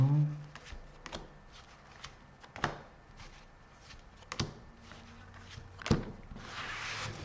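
Rider-Waite tarot cards laid out one by one on a table, with soft slaps and slides of card on card spaced a second or so apart, close and quiet, while a person speaks French in between.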